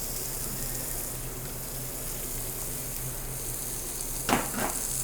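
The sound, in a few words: peppers frying in a pan with garlic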